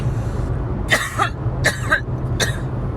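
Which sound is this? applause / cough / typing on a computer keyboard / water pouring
cough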